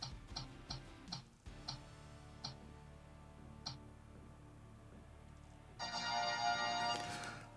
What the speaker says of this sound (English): Let's go ahead and spin the wheel a second time and see who the winner is for the second spin.